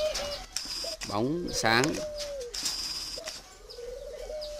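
Caged spotted doves at a Ba Vì bird-raising farm give soft, repeated low coos, with someone speaking over and between the calls.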